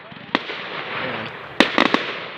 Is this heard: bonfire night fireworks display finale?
yes